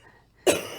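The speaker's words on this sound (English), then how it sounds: "She's just coughing" A woman coughs twice, loud and close, after a moment of near silence. The first cough is a harsh burst and the second follows shortly after.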